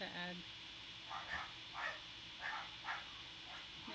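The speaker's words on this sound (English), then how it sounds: "there must be kids outside playing because otherwise the dogs wouldn't be barking this much" Dogs bark outside in a repeated series of distant, faint barks at a fairly regular pace, heard under a quiet indoor background.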